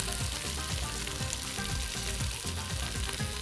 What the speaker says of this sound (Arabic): هحط دلوقتي المرقه